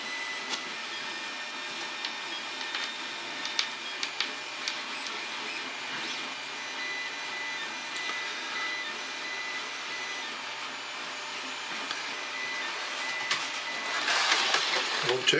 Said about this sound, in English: The noise you hear in the background is the 3D printer